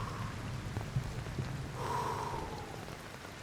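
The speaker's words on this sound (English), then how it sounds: "I like the rain sound." Rain ambience in the video game Cairn: a continuous soft hiss of falling rain with scattered faint drops, steady and moderately quiet throughout.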